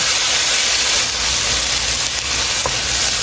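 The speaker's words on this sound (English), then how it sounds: "And I'm going to allow this to fry for about a minute or so." Epis seasoning with garlic frying in a pot for Haitian black beans and rice, a loud, steady, close sizzling hiss running throughout with no talk.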